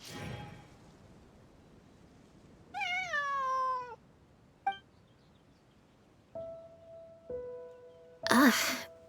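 A cat meows in Genshin Impact: several separate calls, one long wavering meow, a short chirp and a couple of flat tones, close and clear among brief game sound effects, with no talk.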